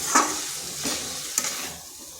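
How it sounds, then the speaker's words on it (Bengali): Chopped watermelon rind tossed with fried spices in a hot pan makes a soft scraping stir over a low sizzle, with a few sharper utensil clinks near the pan. "এটাকে ভালো করে এই মশলার সাথে মিশিয়ে নিতে হবে।"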